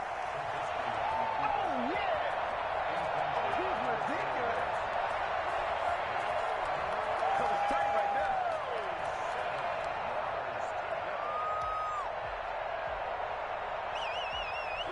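A stadium crowd at an American football game roars in a broad, sustained swell ahead of a big third down. A commentator talks over the crowd, and whistles sound faintly now and then.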